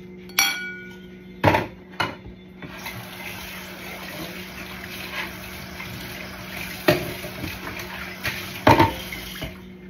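A metal spoon clinks and scrapes in a bowl while ground meat is mixed with water for embutido, sharp clatters scattered among a soft wet churning and a faint steady background hum.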